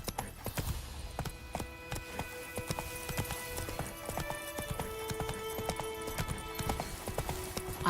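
A horse gallops in The Witcher 3 with steady, rapid hoofbeats that continue throughout. Game music with sustained tones plays over the hoofbeats, and no one speaks.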